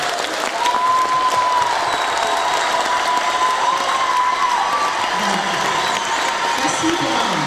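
A hall audience at a city anniversary talent awards ceremony applauds steadily for talented children, with sustained dense clapping and a few whistles or cheers over it.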